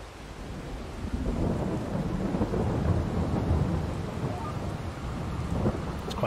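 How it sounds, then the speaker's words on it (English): Rain and rolling thunder in the farming game Farming Simulator 22: a steady downpour under long, low thunder rumbles that swell and fade, loud and continuous throughout. "It's quite nice with that rain pitter-pattering."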